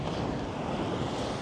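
Blustery wind sweeps across an open beach, with surf rolling in underneath as a steady, dense roar that holds at an even loudness with no voices.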